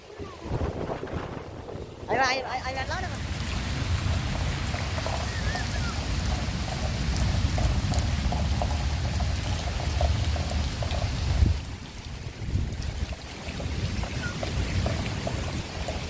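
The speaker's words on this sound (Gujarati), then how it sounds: "અત્યારે વરસાદ પણ ચાલુ થઈ ગયો છે" Rain falls steadily amid gusty wind rumbling against the microphone, with a voice briefly heard early on over the continuous wash.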